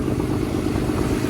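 The engine of a fishing boat runs steadily in its machine room, a dense, even mechanical rumble and clatter that stays loud and unbroken throughout, with no one talking.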